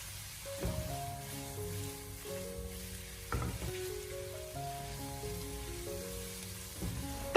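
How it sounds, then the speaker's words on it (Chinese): Carrot and pork slices stir-fried in a wok over high heat crackle and sizzle steadily, with a few sharp scraping stirs of a spatula punctuating the frying, over light background music. "最后在出锅之前，我们再将它大火炒出锅气"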